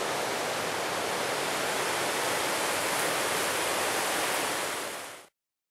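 A waterfall on a mountain hike near Windom Peak in the Chicago Basin gives a loud, steady, broadband roar of rushing water with no talk, and the sound cuts off abruptly at the end.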